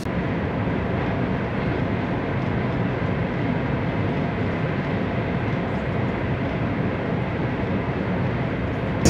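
Steady, dense rumble and roar inside a high-speed train running at about 310–320 km/h, constant and unbroken with no talking, a broad hiss of wheels and air.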